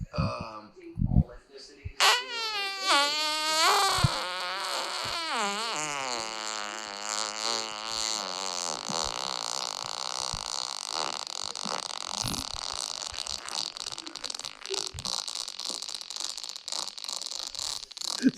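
A long recorded fart plays in a podcast studio, a raspy, wavering blast that sputters into rapid crackling like a rattling counter and carries on for many seconds while people talk and laugh over it.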